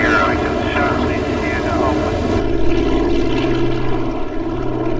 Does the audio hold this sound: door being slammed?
no